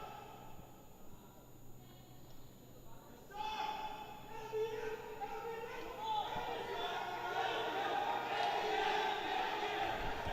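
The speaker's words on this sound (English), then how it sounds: "And the crowd goes wild" A crowd at a powerlifting meet erupts for a national record lift, starting with quiet murmuring, then swelling into loud cheering and shouts that keep rising toward the end.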